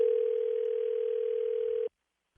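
A steady telephone dial tone holds loud and unbroken for almost two seconds while a call is placed, then cuts off abruptly into silence.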